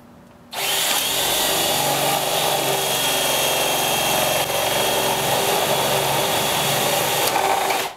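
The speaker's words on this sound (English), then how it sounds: "drill 3/4 inch holes" A power drill with a 3/4 inch boring bit cuts holes into a garden worm compost tower, a loud continuous whine and grinding that starts abruptly and holds steady for about seven seconds.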